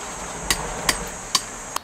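Sharp tool strikes chip excess mortar off a stone masonry wall under repair: four crisp, separate knocks spaced roughly every half second, close and clear against a faint background.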